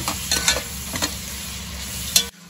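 Onions sizzling in a hot pan with a steady hiss and occasional scraping stirs, ending abruptly.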